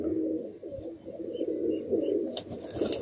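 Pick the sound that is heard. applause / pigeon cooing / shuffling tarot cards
pigeon cooing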